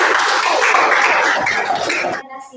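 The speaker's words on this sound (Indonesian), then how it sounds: "Tepuk tangan." Applause and clapping from a classroom audience after a group presentation, dense and steady for about two seconds before stopping abruptly.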